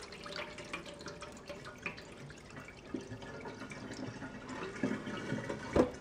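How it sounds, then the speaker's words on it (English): Rinse water splashes and trickles quietly as it is slowly tipped out of a container of rice, with light clinks and drips, close and faint. "And then you tip the water out."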